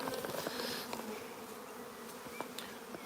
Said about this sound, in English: let these bees come back to their colony